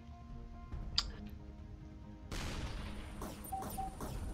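A tank shell fired in Shellshock Live, heard as a short sharp report followed by a burst of crackling game effects, fairly quiet under steady background music.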